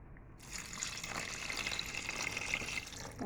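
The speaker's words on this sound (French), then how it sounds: "je verse le jus de citron que j'avais laissé de côté tout à l'heure" Lemon juice is poured into a dish for lemon achar, a soft continuous trickle that starts abruptly and keeps flowing evenly, close by and quiet.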